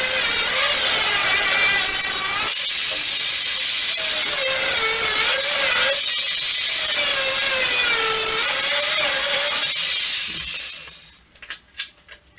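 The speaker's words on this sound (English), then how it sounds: "There, I've cut the shafts on both sides." Steel wheel shafts of a sliding door being cut with a power tool while gripped in vice-grip pliers, a loud continuous grinding whine that wavers in pitch for about ten seconds, then stops abruptly, leaving a few faint clicks.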